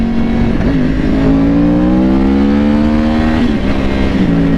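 A Yamaha R6 sport motorcycle engine runs loud and close, holding a steady note that rises and dips slightly as the throttle shifts, with no voices over it.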